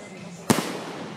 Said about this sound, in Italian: non sapevo che fai i fuochi d'artificio